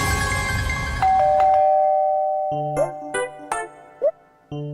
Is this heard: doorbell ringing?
yes